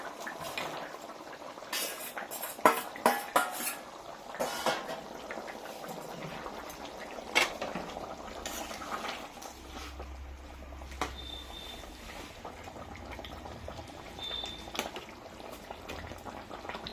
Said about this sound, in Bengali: ঝোলটা তো ফুটে গেল, এখন আমি মাছটা